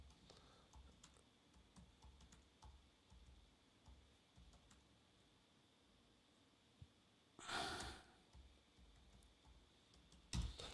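Typing on a computer keyboard, faint scattered key clicks in a quiet room with a louder burst of rapid keystrokes near the end.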